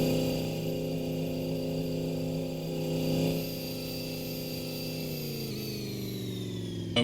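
A car engine at full throttle on a dyno holds a steady, harmonic droning whine that eases down in pitch toward the end as it backs off, close and continuous.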